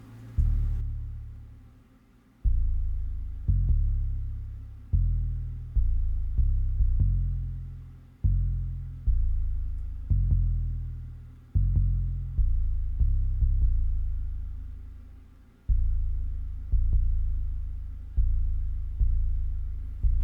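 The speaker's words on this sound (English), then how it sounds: "compare the difference between what it sounds like when you tune your 808s" Deep 808 bass notes thump in a repeating pattern, each boom decaying before the next, some gliding in pitch, others held flat.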